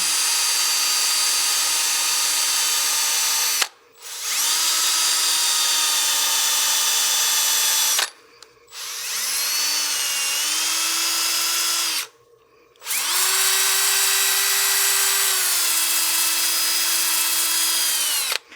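A power drill, spinning against the rotation of a wood lathe workpiece while turning a cake stand, whines steadily at high speed in three long runs separated by brief pauses, its pitch shifting slightly as it spins up, close and loud.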